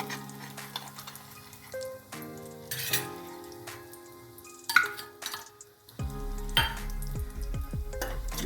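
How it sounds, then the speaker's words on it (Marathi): Fenugreek (methi) roasting in ghee for winter dry-fruit and edible-gum laddoos, with a faint sizzle under repeated metal clinks and scraping as a spoon stirs, steady and close, no voices. "अशी ती भाजून घ्यायची छान तुपामध्ये"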